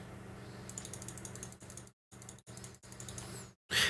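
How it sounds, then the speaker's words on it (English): A keyboard and mouse being touched are picked up by a desk microphone. Close, quiet clicks and tapping come in short bursts separated by brief silences. "if I also go completely silent and start touching my keyboard"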